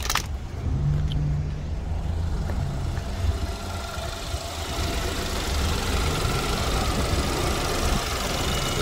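A 2014 BMW GT's engine runs at idle with the hood open, a steady close mechanical hum and light ticking that continues evenly throughout after a brief clunk at the start.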